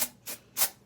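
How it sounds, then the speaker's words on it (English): Three short hissing bursts of Batiste dry shampoo sprayed from an aerosol can, close and crisp, with brief gaps between each spurt. "You don't really want to spray it so close."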